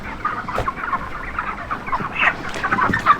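Many 45-day-old broiler chickens, about 1.5 to 2.5 kg each, clucking together in a dense, continuous flock chorus, close by, with no talking.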